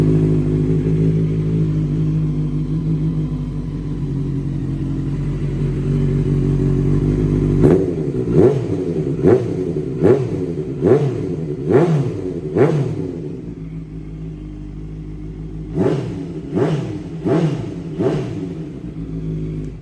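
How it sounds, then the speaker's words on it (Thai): A red-frame 2016 Honda CBR650F limited edition with a loud Daivo exhaust idles steadily, then blips its throttle in repeated sharp revs, a rapid series followed by a pause and another cluster of rises and falls, close and loud. "มาฟังคลิปสตาร์ทก่อนนะครับ"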